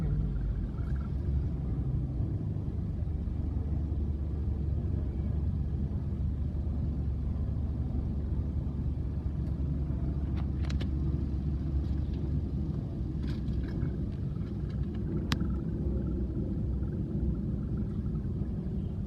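Heavy night traffic on an uphill road toward McKinley Hills, a steady low rumble of idling and creeping car engines throughout, with occasional faint higher sounds over the continuous drone.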